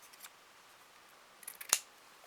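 A single crisp snip of scissors cutting ribbon for an autumn lollipop decoration, preceded by faint handling rustles in a quiet room.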